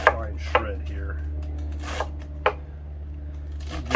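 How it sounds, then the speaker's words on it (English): Knife finely shredding cabbage on a cutting board for a Reuben sandwich, a few sharp separate chops spaced irregularly over a steady low hum, close and fairly loud. "I'm gonna do a fine shred here."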